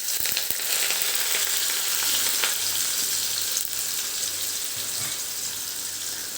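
Chopped onions sizzle in hot oil with cumin seeds, a steady close frying hiss with occasional stirring clicks, no voices.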